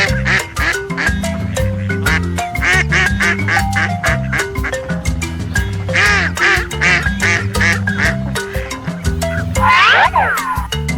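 A cartoon duck quacks several times over bouncy, playful children's music, with springy sound effects mixed in.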